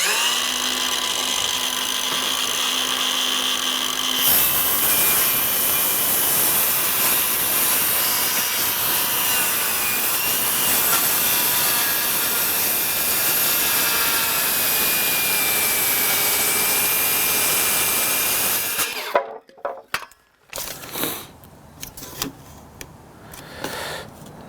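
A circular saw fitted with a rip fence attachment cuts a 12-inch piece of board, a loud steady whine running for about fifteen seconds before stopping abruptly, followed by a few scattered clunks and handling noises.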